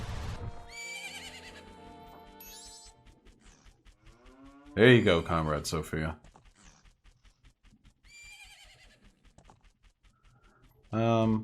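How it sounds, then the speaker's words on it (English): Epona, the horse in the video game Zelda: Majora's Mask, whinnies in loud game bursts between stretches of quieter game music, while someone talks briefly over it. "Tragically, a female horse."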